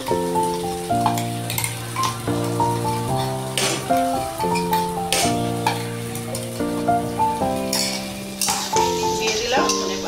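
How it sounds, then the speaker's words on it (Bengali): A ground paste of ginger, garlic, green chili and shrimp heads fries in hot oil, crackling and sizzling steadily with light stirring beneath background music. "সেই পেস্টটা আমি এবার তেলের মধ্যে দিয়ে দিলাম"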